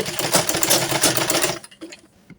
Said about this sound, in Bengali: খুবই ধীর স্থিরভাবে সময় নিয়ে এই নিচের রাউন্ড সেলাই দিলাম।